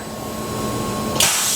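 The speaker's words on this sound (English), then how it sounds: "We'll do a tool change. Spindle will orient." A Tormach 1100 MX CNC vertical machining center, new in 2019, runs a steady hum with faint tonal whine, then a sudden loud pneumatic hiss bursts in near the end as the tool change begins.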